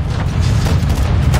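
A deep, heavy rumbling boom of tank fire in Call of Duty Modern Warfare 2, loud and sustained low-end blast with rolling reverberation through the short moment.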